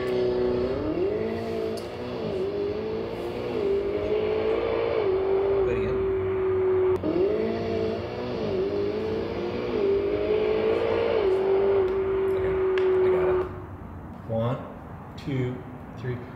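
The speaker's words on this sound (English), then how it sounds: "Ferrari 488" A Ferrari 488 engine revs in a recording, its tone climbing and holding in two long repeated pulls before cutting off, with people talking briefly at the end.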